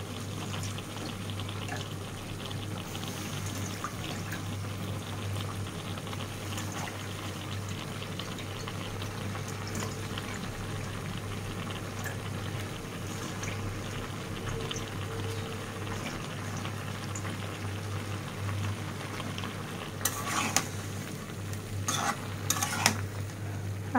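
Small fish cook in a cauliflower and potato curry, giving a low, steady simmer and sizzle with occasional stirring and clinks of a utensil against the pot toward the end.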